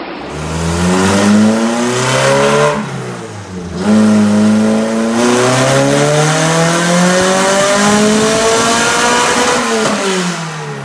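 A nitrous-fed all-wheel-drive Honda engine, running on race fuel, revs loudly in repeated rising and falling sweeps. Each climb holds a sharp, high-pitched wail, with short dips between pulls and no talking.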